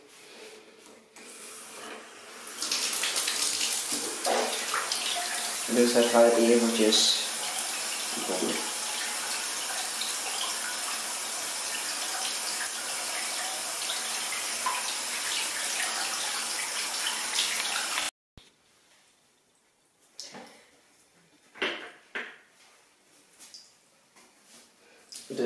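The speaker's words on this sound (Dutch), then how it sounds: "We gaan wel beginnen met water in het bad te doen." Water runs from a tap into a bathtub as a steady broadband rush for about fifteen seconds, with brief louder splashing near the start, then stops abruptly; a few words of speech and soft handling noises follow in a quiet room.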